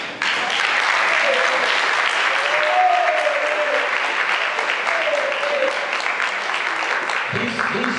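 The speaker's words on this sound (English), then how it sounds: "I want you to give this brother a round of applause" A loud, sustained round of applause fills a hall at a Southern Christian Leadership Conference gathering in Quitman, Georgia, with cheering voices over the clapping, easing slightly near the end.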